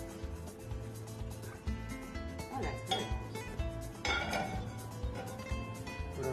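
A pan and utensils clatter on a kitchen stove during cooking, with scattered light clinks and knocks over a steady background hum, moderately close but fairly quiet.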